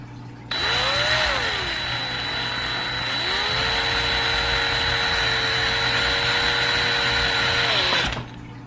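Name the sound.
vacuum sucking dust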